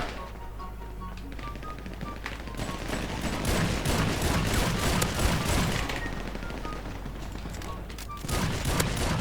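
Machine gun fire in GTA V FiveM crackles in dense, rapid bursts that build in the middle of the stretch and return near the end, loud and close, with faint game sounds behind.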